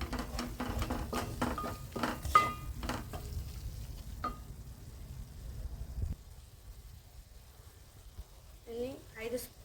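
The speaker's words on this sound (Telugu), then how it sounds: "ఈ ఉల్లిగడ్డలు, ఈ జీలకర్ర మెంతుల పొడి, ఈ అల్లం పేస్ట్ మొత్తం పచ్చివాసన పోయేంత వరకు కలుపుతూ ఉండాలి" Raw onion paste with cumin-fenugreek powder and ginger paste stirred in a pan, giving a run of scraping spoon strokes over a soft sizzle that fades out, followed by a brief voice near the end.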